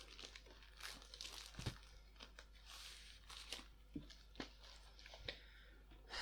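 Scissors hacking open the plastic bag of a Lego Ninjago Ultra Sonic Raider 71739 set, a run of crinkling, crunching plastic with several sharp snips and tears spread across the clip, close and fairly quiet.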